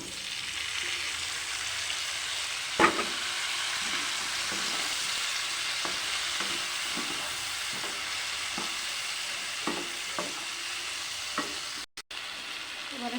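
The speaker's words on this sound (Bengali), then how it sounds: "এবারে ভাজা কুমড়ো আর ভেন্ডিটা দিয়ে দিচ্ছি।" Fried pumpkin and okra with turmeric and chili powder sizzle steadily in a hot pan, with a series of soft scrapes and knocks as the vegetables are stirred.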